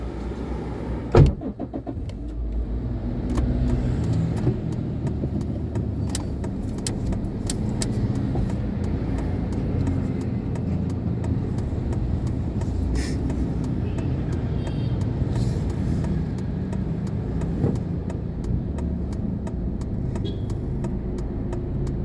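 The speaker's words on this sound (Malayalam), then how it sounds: "വണ്ടികളുടെ ബഹളമാണ്." Busy Monday-morning road traffic with cars and heavier vehicles such as a lorry passing by, a continuous low rumble of engines and tyres with occasional louder passes and faint clicks mixed in.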